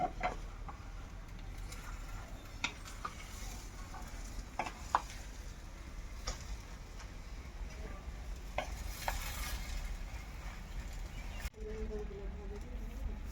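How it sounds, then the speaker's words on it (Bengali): Chopped coriander leaves and a pinch of sugar being stirred into frying cabbage cooked with fish head, a continuous low sizzle punctuated by repeated spatula scrapes and clicks, with a faint voice at times. "এবার আমি ভালো করে এগুলো সব মিশিয়ে দেবো"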